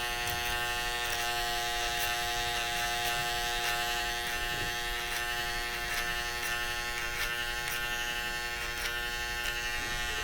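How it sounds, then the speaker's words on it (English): An electric shaver buzzes steadily and up close while shaving a customer's neck in a New York barbershop, a continuous mid-level hum with slight changes in pitch as it moves over the skin. "we definitely will find a customer that shaves the neck,"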